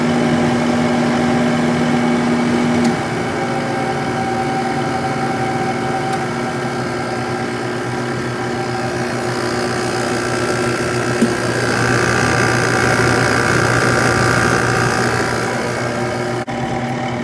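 A window air conditioner compressor runs steadily with a loud, constant mechanical hum and rattle over its whole length, the tone shifting slightly midway before a brief drop near the end.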